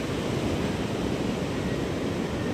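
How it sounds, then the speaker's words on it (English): Arabian Sea surf rolling in at Varkala beach in Kerala, India, a dense, steady roar of breaking waves and wash, close and loud, with no talk. "And this kind of waves are very common here."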